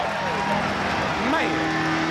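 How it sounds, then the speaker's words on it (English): Crowd roaring and cheering at the finish of a 1999 IROC stock car race at Michigan, a steady broad wash of noise from a large grandstand, with faint engine tones sweeping through. "listen to the crowd"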